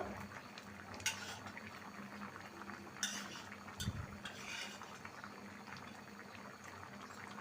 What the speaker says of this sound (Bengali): তরকারিটা ফুটতেছে টক টক টক টক করে